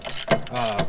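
A ratchet wrench clicks as it loosens the brake caliper bracket bolts on a BMW E46, E36 or E30 chassis, with two short close bursts of ratcheting in under a second.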